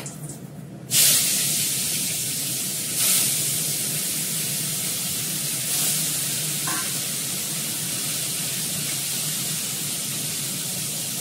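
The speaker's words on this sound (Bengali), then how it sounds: "মাছটা ভেজে নিই" Fish sizzles in hot oil with a steady broadband hiss, and a few louder spitting bursts rise over the frying before it settles into a constant sputter.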